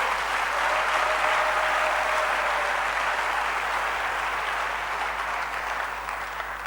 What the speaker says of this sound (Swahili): Umpikie Yesu makofi.